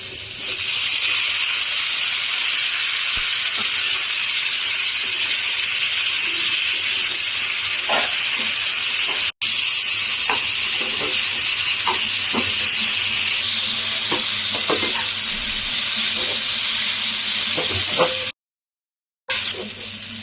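Cucumber pieces and tomatoes frying in a pan over medium flame for a cucumber chutney, giving a steady loud hiss of sizzling oil throughout with a few soft clicks and stirs, briefly cut out near the end.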